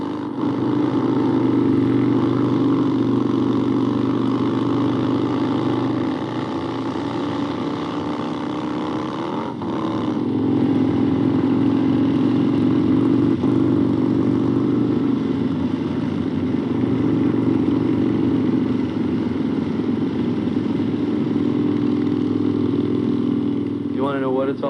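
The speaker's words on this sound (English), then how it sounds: "It's all about just riding your motorcycle and having a good time." Chopper-style motorcycle engine running steadily while riding, a loud continuous drone with a slight rise around ten seconds and a brief rev near the end.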